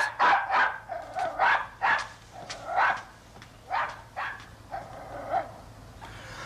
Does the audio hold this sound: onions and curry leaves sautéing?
no